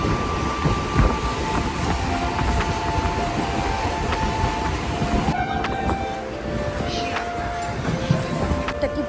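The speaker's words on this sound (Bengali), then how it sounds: "ট্রেনটা ছেড়ে দিয়েছে সীমান্ত থেকে, একটু পরে ট্রেন ভিড় হয়ে যাবে দেখবে।" A passenger train from Sealdah's Seemanta line rumbles steadily from inside the carriage, with a continuous loud low roar, rhythmic wheel clatter and a brief horn-like tone partway through.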